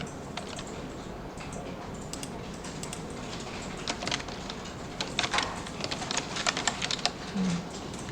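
Close keystrokes tap on a computer keyboard while a word is typed in Photoshop, soft at first and then in quicker, slightly louder bursts toward the end, with no talking.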